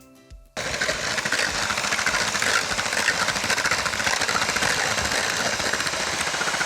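An electric mixer beats waffle batter with a loud, steady mechanical whir that starts abruptly after a brief quiet moment and runs continuously close by, with a slightly rough, buzzing texture.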